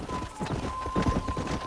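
Horse hooves clip-clop at a steady walking pace in the Red Dead Redemption video game, a brief run of soft thuds under a low steady hum and ambient background.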